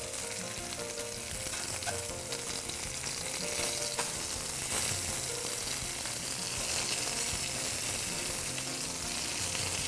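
Scallops searing in a hot pan, a loud, dense, steady sizzle with occasional small pops and clinks, lasting throughout with no voice.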